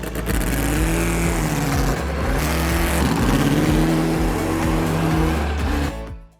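A small high-pitched engine in a miniature Corvette RC car with a real motor screams and revs continuously, loud and close, with rising and falling pitch sweeps before cutting off at the end.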